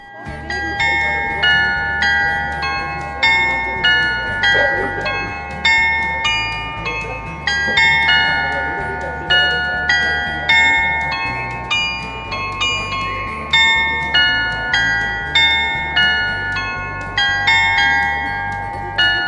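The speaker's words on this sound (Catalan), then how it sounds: "El carilló és dels anys 60 i es tracta d'un regal del director d'una companyia d'assegurances." Carillon bells of a 1960s instrument in Gouda, Netherlands, chime a steady melodic sequence of bright, ringing tones over a low rhythmic backing, sustained and fairly loud throughout with some background activity.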